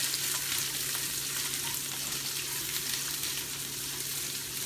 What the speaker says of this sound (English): So I just add the garlic and onions first.